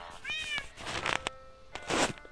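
A cat in a zombie apocalypse video game meows clearly and close, a rising and falling cry followed by shorter mews, mixed with bursts of game noise and clicks.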